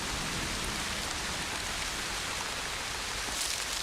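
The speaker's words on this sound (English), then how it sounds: "A gentle rain is an encouraging sign." Soft pre-monsoon rain patters steadily and evenly, a constant wash of fine drops with no voices or other sounds.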